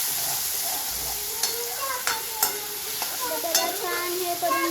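Tomatoes sizzle and fry in a pan for chicken biryani while a spoon stirs them, adding a series of sharp scraping clicks over a constant frying hiss.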